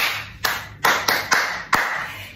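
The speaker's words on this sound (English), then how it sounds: "Let me clap for you again." A single person clapping hands, five sharp, separate claps spaced unevenly over a couple of seconds, close and fairly loud, each followed by a short room decay.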